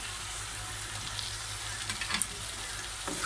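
Fried potatoes tumble into chicken curry in a pan, giving a steady, fairly loud sizzle and frying hiss with a few soft stirring clinks near the end.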